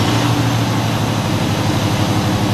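A Freightliner Cascadia Detroit diesel engine, a DD13, DD15 or DD16 with a crankcase oil separator speed fault, runs at a steady, close, heavy rumble with an even low throb and no talk over it.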